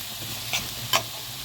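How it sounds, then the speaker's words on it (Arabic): Food frying in a pot over a lit gas burner, a steady low sizzle with two brief louder stirring scrapes, no voices. "هنايا شعلنا عليها البوطه صافي باش نبداو نشحروا فيهم"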